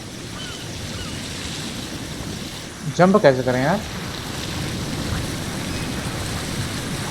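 Rushing water of a geyser in God of War Ragnarok, a steady broad hiss and roar running throughout, briefly overlaid by someone speaking in the middle.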